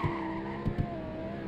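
A car launching hard from a standstill, its engine roaring steadily with a rising whine and a couple of short thumps early on, loud and close, with no voices.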